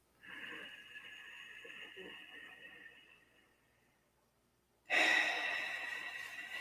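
A long, slow breath drawn in, breathy and close, fading into a pause before a louder rushing exhale begins.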